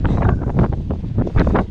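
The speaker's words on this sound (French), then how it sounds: "Il y a du vent." Gusty wind buffets the microphone in low rumbling bursts on a mountain trail race, loud and close, with no speech.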